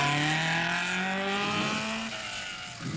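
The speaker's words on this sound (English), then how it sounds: "Constance Alpha sounds as crisp as ever." A Lancia rally car engine revs hard on the Coupe des Alpes rally, its rising note climbing steadily through the gears up close and loud, then easing off with a tire scuff near the end.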